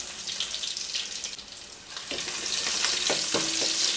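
Curry leaves, garlic cloves and ginger slices frying in oil for a village-style chicken gravy, a continuous crackling sizzle that grows louder and busier partway through, with stirring clinks.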